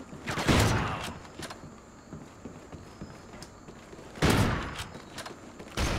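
Bursts of rapid gunfire in an online shooter game, two loud volleys separated by quieter scattered shots and footstep-like clatter, with brief sharp reports in between.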